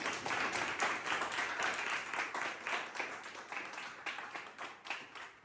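An audience at a wine competition awards gathering applauds for Signor Marchi, a steady wash of many clapping hands that stays even, then thins toward the end.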